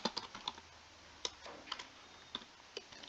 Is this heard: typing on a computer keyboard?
yes